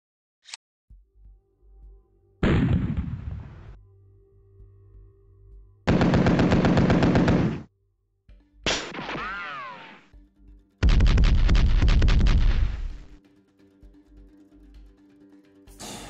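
Bursts of machine-gun fire and heavy gunshots from the WinSPMBT Cold War mod war game, loud, sharp volleys separated by silent gaps with a sweeping whine in between.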